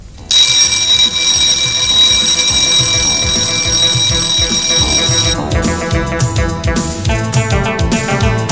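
An alarm clock rings loudly and continuously for several seconds, a bright electronic tone, then gives way to music.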